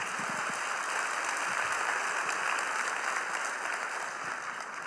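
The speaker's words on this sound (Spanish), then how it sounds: "Dale un aplauso a Cristo." A church congregation applauds during a sermon, giving steady, dense clapping that fills the room evenly for several seconds at a moderate, sustained level with no voices on top.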